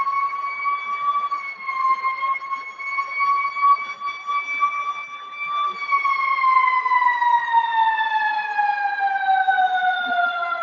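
An emergency vehicle siren wails steadily over a long stretch, its pitch holding and then sliding gradually downward as it passes, fairly loud and clear with no voices heard.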